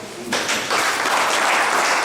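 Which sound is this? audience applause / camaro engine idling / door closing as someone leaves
audience applause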